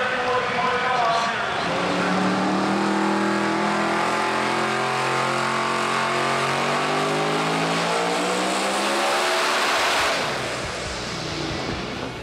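High-performance show car engine at Summernats 32 revving hard on a dyno: a loud, sustained roar climbing steadily in pitch through the gears, then easing off near the end.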